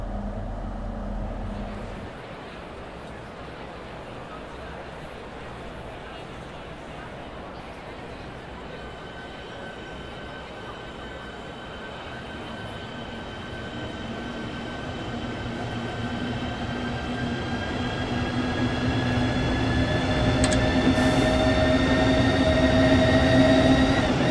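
Train in the Train Sim World 3 game departing St Pancras toward Ashford International, heard from outside: a steady station rumble as rising electric motor whines climb in pitch and the sound swells louder while it pulls away.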